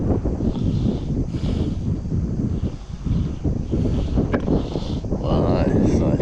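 Steady wind buffets the microphone above the water surface while out mangrove jack fishing from a boat, a continuous loud rushing roar with gusty swells and no clear voices.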